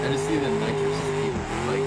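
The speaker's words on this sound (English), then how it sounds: "That's rev limiter." A car engine in the BeamNG video game holding steady against the rev limiter, a loud sustained buzzing drone that wavers slightly in pitch.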